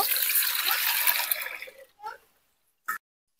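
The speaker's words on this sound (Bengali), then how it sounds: "আমি চালটা ধুয়ে নিব।" Rice being washed in water ahead of cooking in a rice cooker makes a sloshing, swishing rush of water that fades over a couple of seconds, then a short splash and a brief final slosh, close and alone.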